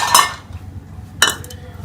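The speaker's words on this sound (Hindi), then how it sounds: "चम्मच की मदद से निकाल लें।" A metal spoon scraping the pulp from inside a tomato for stuffed tomatoes, two short clinking scrapes heard close and alone, separated by a quiet pause.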